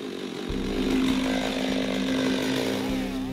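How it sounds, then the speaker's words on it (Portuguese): Chainsaw cutting wood in a forest clearing to fuel a wood-fired oven, a steady loud engine whine held throughout with slight pitch dips as the chain bites. "com a motosserra que acaba de comprar, ele corta madeira para alimentar o forno a lenha"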